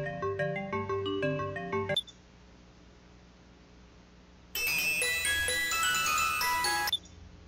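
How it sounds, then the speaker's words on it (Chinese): A ringtone chimes from a video game, KOEWOTAYORINI, signaling an incoming call from an unknown number: a bright, tinkling electronic melody plays loudly, stops, then after a quiet pause returns fuller and denser before cutting off again. "陌生来电当然是拒接啊"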